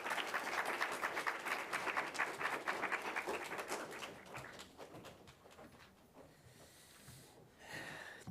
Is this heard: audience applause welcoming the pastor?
yes